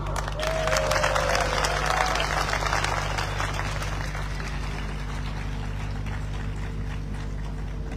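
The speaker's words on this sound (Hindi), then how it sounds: "ताली बजाओ।" An audience claps steadily throughout at a crowded indoor business gathering, the dense applause blending with a constant low hum and a brief whistle-like tone near the start.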